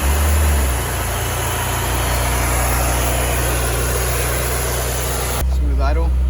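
A BMW E90 engine fires up and settles into a steady, even idle after a DISA valve replacement, heard close and loud, with a hum running throughout and a voice briefly speaking near the end.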